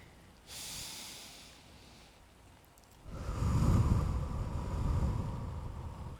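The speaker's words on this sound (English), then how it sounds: "Does it sound okay, the breathing?" Slow, guided breathing: a soft, airy inhale followed after a pause by a louder, longer exhale close to the microphone, with a breathy hiss and no words.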